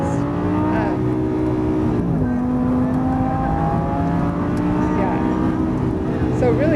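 Lamborghini Huracan on a track, engine droning and shifting pitch as it accelerates from inside the car, with rising and falling harmonic tones under cabin noise and occasional speech.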